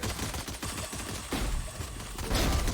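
Rapid gunfire in the tactical shooter Valorant during a competitive match: a loud, fast burst of shots at the start, then further bursts and booming impacts later, with no talk.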